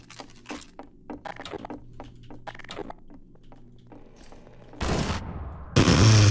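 Rifle fire from Half-Life 2, with scattered mechanical clicks and clatter giving way to two loud, close bursts of gunfire near the end.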